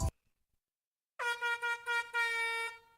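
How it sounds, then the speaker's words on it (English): A loud air horn blasts in a series of short rhythmic bursts ending in one longer held tone, preceded by a brief thump and silence. "give y'all a big old air horn for just being so awesome."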